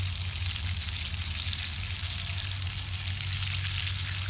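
Butter sizzles in a pan with a soft, even crackle, steady and fairly quiet throughout, over a low hum and without any talk.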